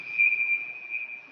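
A linesman's sharp, steady whistle blast at an ice hockey game, a single sustained tone lasting over a second, fairly loud above faint arena murmur.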